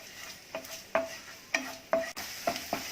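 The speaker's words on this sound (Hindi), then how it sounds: "अब इसमें सबसे पहले हम प्याज डालेंगे, स्टर करेंगे अच्छे से" Chopped onions being stir-fried in hot oil over a medium flame make a quiet sizzle, broken by a rhythmic series of soft spatula scrapes and taps against the pan.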